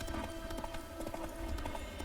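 A horse gallops steadily in The Witcher 3: Wild Hunt, its clip-clop hooves beating a quick, even rhythm up close against a constant low rumble of movement and ambient game sound.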